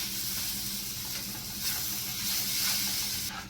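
Pineapple tipped into sizzling rava kesari in a pan, a continuous close hiss and sizzle with soft stirring movements, no talking.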